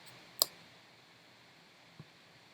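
A computer mouse gives one crisp, close click followed by a fainter second click about a second and a half later in a quiet room.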